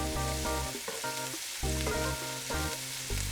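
Vegetables sizzle and fry steadily in a pan while making lamb shanks, with a continuous crackling hiss under loud, tonal background music.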